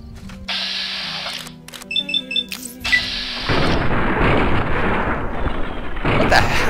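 Gunfire in the video game Fallout: New Vegas, with a few sharp shots and bursts early on, then a dense rumbling barrage of explosions and firing that fills the rest, loud and close, with no talk.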